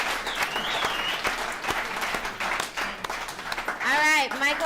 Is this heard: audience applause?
yes